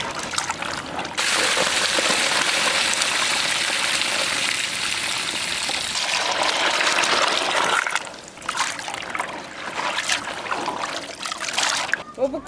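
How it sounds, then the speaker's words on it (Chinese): Running tap water splashes and trickles steadily while muddy Chinese artichokes are soaked and washed in a home kitchen, then breaks into shorter, uneven splashes toward the end. "螺丝菜里面的泥比较多，把多泡一会儿，多洗几遍"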